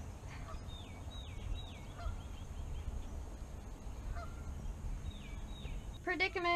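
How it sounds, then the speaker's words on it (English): Several geese honk in a standoff outdoors, repeated nasal calls coming in short bursts at moderate distance over a low background rumble, with a sharp burst of louder honking at the end. "There's a goose standoff."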